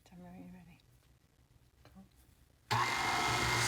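A KitchenAid stand mixer starts on slow speed to mix chocolate chip cookie dough, kicking in abruptly with a loud, steady whir after a stretch of quiet voices.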